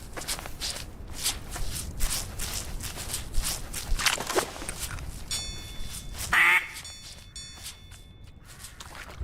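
A duck-hunting video game plays a rapid series of quacking duck sounds mixed with shuffling, rustling bursts, and a short sharp chirp stands out near the end.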